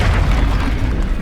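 A spell blast goes off in the Hogwarts Legacy video game, a loud, dense booming rumble that fills the whole moment without a break.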